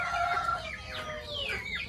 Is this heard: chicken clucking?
yes